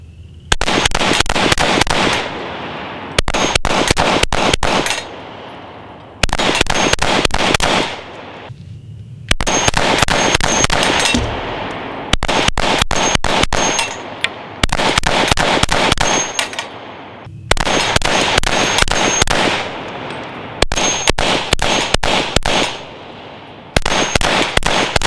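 Bursts of compensated handgun shots fired in low light, rapid sharp cracks in tight strings separated by short pauses, loud and close with no talking.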